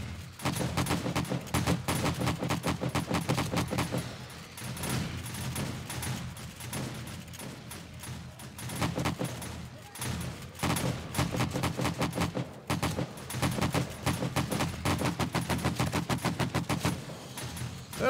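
Sustained AK-47 fire in the video game 7 Days to Die, with long loud automatic bursts of close, rapid shots broken by short pauses.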